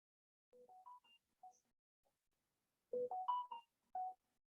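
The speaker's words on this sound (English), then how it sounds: "My phone says it's on silent and it's still ringing" A mobile phone set to silent still rings, a quiet melodic ringtone of short tonal notes in two phrases separated by a pause, heard alone and faint.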